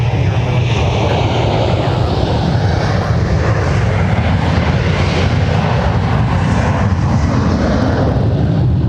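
An airplane passing at MSP airport, a loud, sustained engine roar that stays powerful and even for the whole stretch, close and overwhelming.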